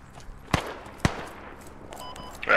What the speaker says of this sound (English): They're still shooting at our bodies